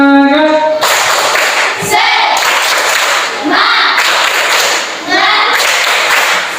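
A classroom of students claps a rhythmic group cheer, several bursts of loud clapping and thumps separated by short pauses, with a voice speaking briefly at the start.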